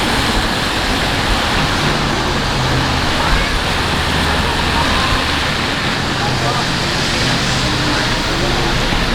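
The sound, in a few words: rain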